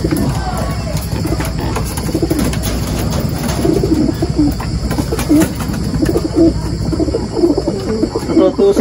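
Racing pigeons coo steadily in a loft, soft repeated low calls close by, with insects chirping in the background and voices talking.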